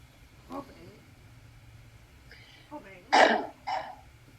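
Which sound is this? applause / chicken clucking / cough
cough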